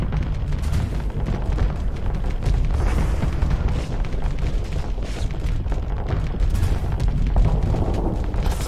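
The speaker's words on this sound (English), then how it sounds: "Not a very satisfying explosion." Spaceship weapons fire and explosions in the space combat game Starsector, a dense continuous barrage of low booms and rumbling blasts at steady loudness, with no voices over it.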